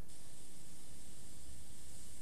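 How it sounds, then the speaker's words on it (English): An airbrush sprays thinned quinacridone paint at full blast, a steady, even hiss of air that holds unbroken throughout, close and moderately loud. "I'm spraying full blast and it has very little effect"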